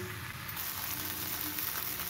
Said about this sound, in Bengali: আলুটাকে দিয়েও বেশ খানিকক্ষণ এটাকে কষিয়ে নেব